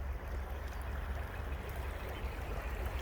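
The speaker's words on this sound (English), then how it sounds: "I am standing on the banks of the Yakima River above the KOA" Yakima River running high and swollen after a day of heavy rainfall, a steady broadband rush of flowing water from close by on the bank, continuous and loud with no pauses.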